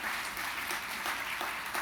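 An audience at the 2017 Writers Guild Awards ceremony claps in a steady, dense wash of applause that holds at an even level for a couple of seconds without any voices.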